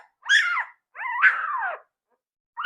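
A week-old bully breed puppy whines in two drawn-out, rising and falling cries close by, with a third beginning at the end, separated by silence.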